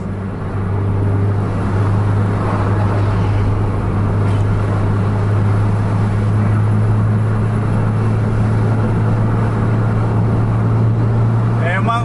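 A bus engine roars at full throttle as the bus overtakes two other buses in traffic, loud and sustained with a steady low drone and no pauses.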